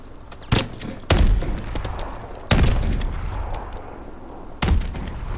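An MDL grenade launcher in the game Call of Duty Advanced Warfare fires during a free-for-all match, producing four loud, heavy thumping blasts spaced irregularly, each followed by a rumbling tail over constant game noise.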